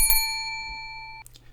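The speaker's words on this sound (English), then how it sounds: "ring that bell" A bright bicycle-style bell rings once with a clear metallic ding whose tones sustain and slowly fade over about a second, followed by a couple of short, softer clicks.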